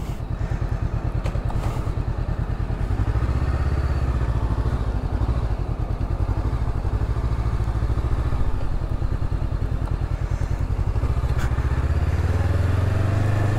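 A Honda CB500X motorcycle is ridden on the road, its engine droning loud and close with a steady pulsing rhythm that rises and falls as it accelerates, plus wind buffeting and no talk.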